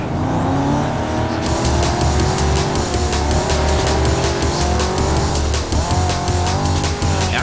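In the Need for Speed Carbon racing game, car tires squeal and skid under a loud, continuous engine roar, the screech rising and shifting in pitch as the car slides through a turn, with no talk over it.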